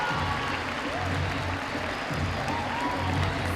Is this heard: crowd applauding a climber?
yes